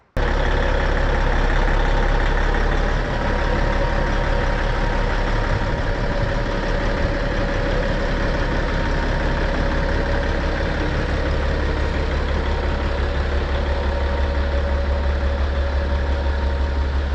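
A heavy truck engine idles steadily and close by, a constant low rumble with no change in pace and no voices.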